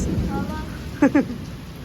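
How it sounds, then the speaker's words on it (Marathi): Steady hiss of rain falling nearby, with a brief vocal sound rising over it partway through. "किती पाऊस येले"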